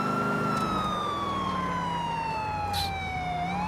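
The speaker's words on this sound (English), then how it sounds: "I'm surprised the siren is still, like, sounding proper." A wailing police siren from GTA IV sweeps slowly downward then climbs again, loud and unbroken over a low vehicle drone, with a brief bright burst near the end and no voices.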